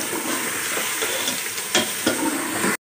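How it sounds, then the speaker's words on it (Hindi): Chicken is stirred into fried masala in a hot pan: a steady close sizzle with scraping stir strokes swelling now and then, ending abruptly. "मसाला हमने अच्छे से भून लिया है, अब हम इसमें चिकन डालते हैं।"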